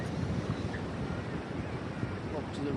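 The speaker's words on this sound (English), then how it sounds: "it's a little bit windy, so I don't know how well you'll be able to hear me" Steady wind buffets the microphone at a Cornwall cove, a broad continuous roar with sea wash mixed in, loud and close throughout.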